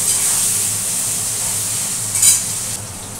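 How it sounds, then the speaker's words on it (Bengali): Strips of potato and eggplant fry in a pan with cumin seeds, giving a steady close sizzling hiss throughout with a brief louder spatter near the end and no talking. "আলু বেগুনকে একটু ভাজা ভাজা করি"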